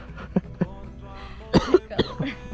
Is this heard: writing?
no